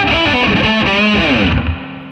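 Distorted electric guitar played through an ENGL Classic Tube Live 50-watt valve amp with its spring reverb switched on, a loud sustained chord phrase ringing out and decaying with a reverb tail near the end.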